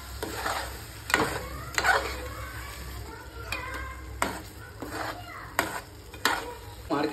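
Tomato puree sizzles as it is sautéed in a pan for chicken masala, with repeated spoon scrapes and clinks every second or so over a constant frying hiss.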